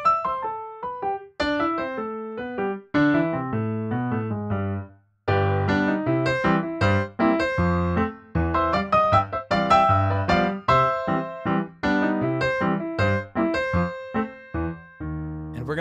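Solo piano playing the intro and opening A section of Scott Joplin's ragtime piece The Entertainer, bright bouncy melody over oom-pah bass, clear and close with a short pause near the start.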